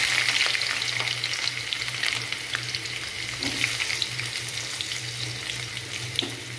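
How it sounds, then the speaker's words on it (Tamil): Onions frying in hot oil in a pan with a bay leaf, a steady close sizzle with occasional stirring scrapes and a low continuous hum beneath, no talking. "இப்போ வெங்காயம் போட்டாச்சு, வெங்காயம் நல்லா வதங்கட்டும்."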